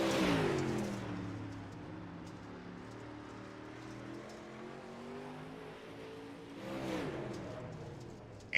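A super late model race car running practice laps on an oval track, its engine droning steadily as it circles, swelling louder as it sweeps past near the end.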